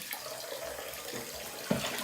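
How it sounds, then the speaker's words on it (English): Tap water runs steadily into a sink while dye is rinsed from a wig ponytail, a constant hissing splash with a soft clunk near the end. "let the water run as clear as possible"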